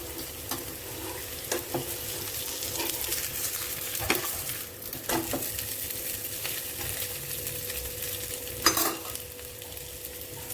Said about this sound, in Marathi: भाजून घ्यायचं आहे, नंतर पलटी करायचं आहे. आता मी हे पलटी करते.